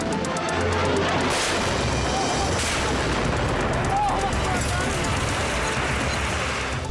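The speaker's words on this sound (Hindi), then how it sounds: "सीरिया में भीषण बारूदी घमासान।" A battle in Syria: loud, dense gunfire and artillery blasts with sharp repeated bangs and a rumbling background, a voice talking over the combat throughout.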